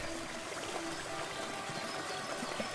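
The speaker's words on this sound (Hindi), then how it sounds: "वहां एक दूध जैसा सफेद चमकता हुआ झरना बह रहा था।" A milky white waterfall pours steadily in a forest, giving a constant broadband rush of falling water that stays even and fairly loud for the whole stretch, with no voices.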